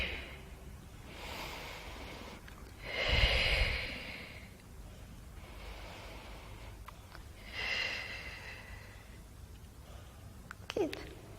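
Controlled exhalations during a Pilates exercise: two distinct, audible breaths out, each lasting about a second, close and soft, with quiet pauses between and faint room noise.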